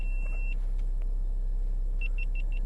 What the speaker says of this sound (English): that's one of my cameras switching off